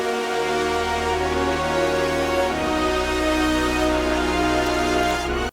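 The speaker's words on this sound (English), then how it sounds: "without processing, the whole orchestra section sounds like this" A dry, unprocessed orchestral section plays steady sustained chords, loud and continuous with no voices, shifting to a new chord partway through.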